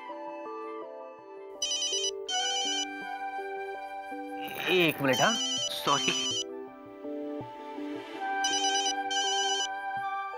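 A mobile phone ringtone plays in a home during a family comedy, a repeating melodic chime in bursts that continues under brief spoken exchanges between people nearby.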